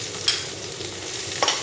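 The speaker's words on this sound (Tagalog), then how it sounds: "kapag mainit na yung ating cooking oil, ilagay na natin ang bawang." Garlic sizzles in hot cooking oil with a steady frying hiss, broken by two brief sharper crackles or stirring clinks, close and alone without talk.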